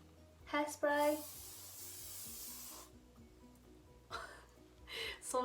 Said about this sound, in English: So hairspray.